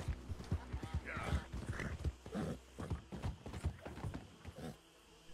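Horse hooves clip-clop steadily on the ground in Red Dead Redemption 2, a quick, busy rhythm sitting at a faint level under other game sounds.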